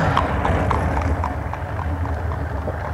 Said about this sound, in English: you see horse and buggy just fly by